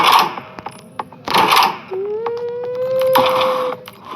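Metal keys jingle and clink in bursts while being found, with sharp metallic taps between, close and loud, alongside a sustained tonal whine in the middle.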